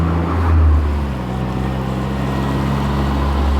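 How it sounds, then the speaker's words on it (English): Smart Crossblade roadster's small three-cylinder engine running steadily on a rainy English road, a low, even drone with faint harmonics, close and continuous with a slight swell early on and no voices. "this is about the only time we've been able to hear that lovely little 3-cylinder engine"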